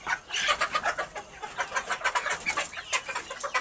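Layer chickens on a poultry farm cluck in quick, rhythmic bursts while being moved one after another, close and fairly loud, a steady pulsing flock chatter with no talking.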